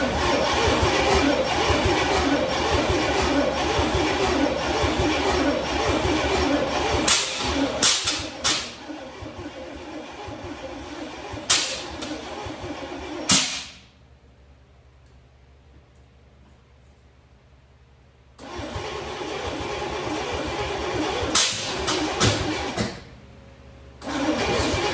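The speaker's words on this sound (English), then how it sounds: "now we're going to try and start it" A rebuilt 1990 Chevrolet 454 SS engine cranks and fires, running loud and rough with revving bursts, cutting off briefly to near silence before restarting and running again.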